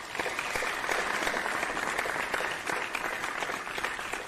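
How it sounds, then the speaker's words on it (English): Recorded crowd applause played back during a virtual meeting's table topic session, a quiet but continuous round of many hands clapping with steady density from start to finish. "I was simply playing a video of clapping."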